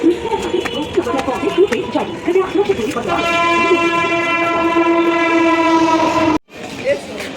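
A local train on the Howrah line pulls into a station with rumbling wheels and a long sustained horn blast, loud and close, with scattered voices in the background before the horn.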